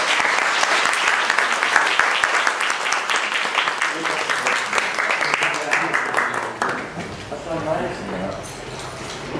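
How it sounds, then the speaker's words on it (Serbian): Audience applause at a law institute book launch, a dense sustained round of clapping filling the room, thinning slightly toward the end with a few voices audible underneath. "Ali pre toga i jedan aplauz za ovako lepo."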